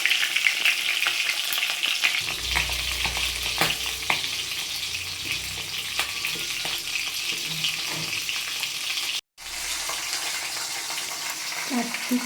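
A fish head fries in hot oil in a pan, with a continuous close sizzle and occasional clinks of stirring; the sizzle briefly cuts out near the end.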